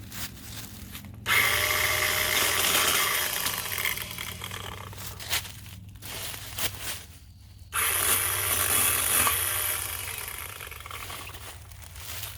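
A HyperTough 20V cordless 8-inch pole saw cuts small limbs and wild vines, its chain buzzing in two long bursts separated by short pauses and a quieter stretch.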